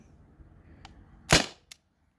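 A single sharp air pistol shot from a Beeman BP50 or T4E TR50, a crisp close crack with a brief tail, followed by a faint small click, in an otherwise quiet setting.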